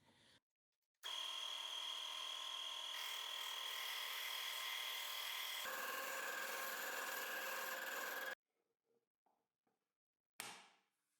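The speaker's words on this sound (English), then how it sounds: "I'll finish making them with a jig with an axis and the sanding disc." A sanding disc finishes wooden rings turned on a jig with an axis, giving a loud steady whirring grind that shifts pitch midway, then cuts off, leaving a few soft clicks and a brief final scrape.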